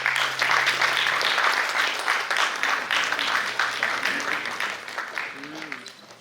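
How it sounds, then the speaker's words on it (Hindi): An audience at a memorial theatre and award ceremony claps loudly and steadily, the applause gradually thinning toward the end while a voice speaks faintly beneath it. "एक बार जोरदार तालियां हो जाए"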